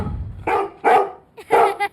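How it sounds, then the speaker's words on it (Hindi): A dog barks three times at close range, loud separated yelps spread over two seconds with quiet gaps between them. "आधी रात से ये ऐसे ही भौंक रहा है"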